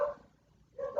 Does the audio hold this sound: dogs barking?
yes